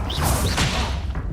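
Incendio fire spell cast in the Hogwarts Legacy video game: a short, loud burst of whooshing, crackling magic effects with a dull thud, close and dense, lasting just over a second.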